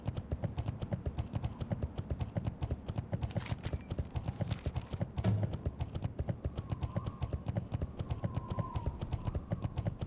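Horse hooves gallop steadily in the video game Ominus, ridden by a warlock on a fiery horse: a fast, even clip-clop rhythm runs throughout at close range, with a brief bright clang midway.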